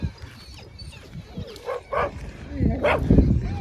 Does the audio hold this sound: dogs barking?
yes